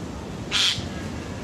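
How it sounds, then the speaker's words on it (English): A single harsh, rasping squawk of a Eurasian jay, loud and close, standing out briefly against a steady background hiss. "And when you start to hear the jay call,"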